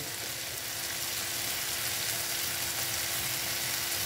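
Halved eggs frying in mustard-poppy masala in a pan, a quiet, even sizzle holding steady for a few seconds with no stirring accents and no voices.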